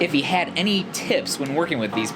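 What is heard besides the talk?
No distinct noise like a dog, phone or traffic.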